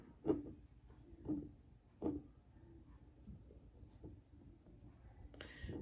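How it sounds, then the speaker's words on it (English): Writing on a Dollar Tree candle: faint, close scratchy pen strokes come in short bursts about a second apart, with quiet gaps between. "you're going to write uncross whatever type of blocks"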